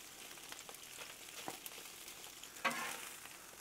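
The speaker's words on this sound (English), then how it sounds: "Kind of mix all that in as the heat and the moisture helps break up them noodles." Pre-boiled pasta sizzles on a hot Blackstone griddle, a steady crackling fry with occasional spatula scrapes and stirring clicks, one sharper scrape near the end.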